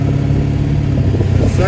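Steady mid-pitched engine drone from a car fitted with a 4R100 transmission pulling in first gear, close and loud, with someone talking over it.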